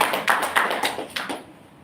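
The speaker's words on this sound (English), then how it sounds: "I stand here because you are all applauding me." A handful of sharp hand claps ring out in a lecture hall, about five in a row with an uneven rhythm. The claps are close and fairly loud, then the room falls quiet.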